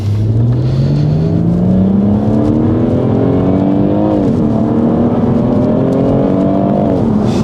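A tuned BMW M140i accelerates hard in third gear on the road, its engine note climbing steadily in pitch from inside the car, with brief dips at shifts and a loud, continuous drone throughout.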